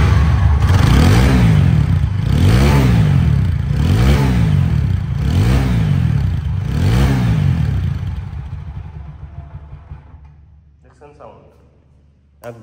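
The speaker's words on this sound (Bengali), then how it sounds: "বাইকটা সাউন্ড কোয়ালিটি শুনলে আরও অবাক হয়ে যাবেন" A second-hand 4V XConnect motorcycle engine revs loudly and close in about five rhythmic surges. The revving then fades to a quieter idle and dies away near the end.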